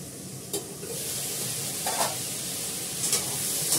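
Okra sizzles steadily in a frying pan, a continuous hiss with a few sharper scraping stirs at intervals, close and fairly quiet.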